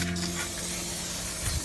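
An aerosol can sprays cleaner onto Jeep WJ wheel rims in one continuous close hiss that holds steady for under two seconds, with no talking.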